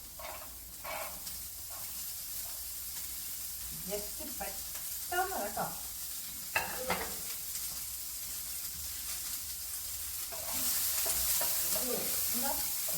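Beans and carrots sizzling in sunflower oil with stirring, a steady fry hiss under intermittent speech, rising slightly louder toward the end.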